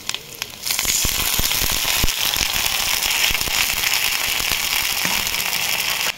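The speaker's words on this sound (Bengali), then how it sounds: "এই পেঁয়াজ রসুনের মধ্যে জল দিলাম" Water poured into ginger, garlic and onion frying in a pan for ghugni, bursting into loud crackling and spitting sizzle that starts abruptly and stays dense and close throughout, with no voices.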